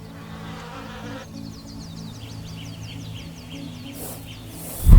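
Insects buzzing in flight, bees and wasps, in the wild bush of Luangwa, Zambia. A steady, close hum runs throughout, with faint bird chirps behind it and a sudden low thump at the very end.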